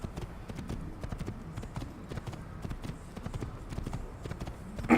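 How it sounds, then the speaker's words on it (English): Horse galloping in the Assassin's Creed video game: a steady, rapid clip-clop of hooves running continuously throughout, fairly close, with no talk over it. "Horse."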